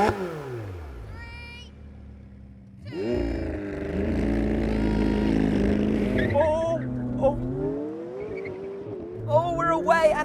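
A McLaren 720S and a 675LT launch side by side in a drag race on cold tyres, with a loud engine roar building and rising through gear changes, accompanied by a brief squeal of tyres and talking.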